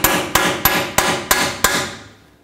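Six evenly spaced sharp metal hammer blows drive a seal installer onto a rear axle seal of a 1997-2003 Ford F-150, each strike ringing briefly before the next, close and clear with no talk.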